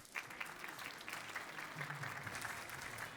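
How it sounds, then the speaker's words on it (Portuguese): Applause from an audience at a business awards ceremony honouring firms, steady dense clapping held at a moderate distance for the whole stretch. "a quem pedimos também uma salva de palmas"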